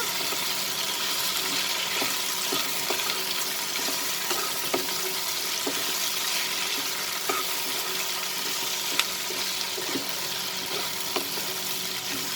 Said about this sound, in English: We'll saute it together